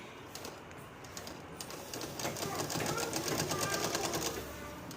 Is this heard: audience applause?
no